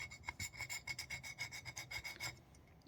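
A cold-worked 6% tin bronze edge scratches across a cast fahlore copper dagger blade in about a dozen quick rasping strokes, close and faint, ending in quiet.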